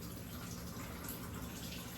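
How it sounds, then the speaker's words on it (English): Water pouring and draining out of a cooking pot while black rice is washed, a steady gushing splash that holds at a constant level throughout with no talk. "I'm gonna drain this water from here."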